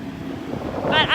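Strong wind buffets the microphone outdoors near a fire on a city avenue, a steady low rumbling gust, loud and close, briefly joined by a voice.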